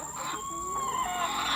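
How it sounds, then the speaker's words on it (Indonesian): Laying hens cluck inside a coop of around 200 birds, a short, drawn-out call rising and falling at fairly close range over a steady background hum. "ayam petelur"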